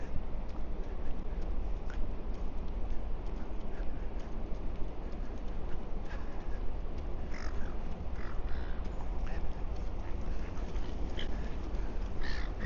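Seagulls call over Sydney Harbour with scattered, distant cries above the steady wind and ship noise heard from a cruise ship deck, grouped mainly in the second half.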